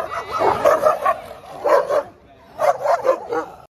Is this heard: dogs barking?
yes